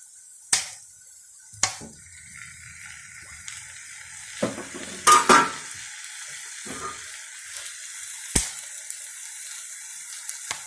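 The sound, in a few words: stirring chicken kachori filling with soy and chili sauce in pan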